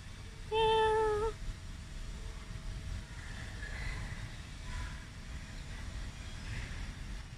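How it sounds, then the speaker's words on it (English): A fat cat outdoors in a quiet neighborhood gives one clear, drawn-out meow near the start, close and fairly loud, followed by low ambient outdoor rumble and no talking. "Oh, did I see another fat cat there?"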